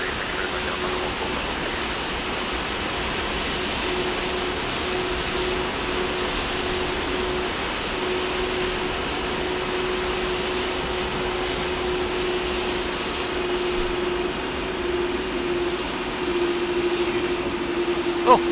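Boeing 757 freighter jet engine sound in the X-Plane flight simulator, a loud, steady broadband roar with a faint sustained whine throughout and no talking.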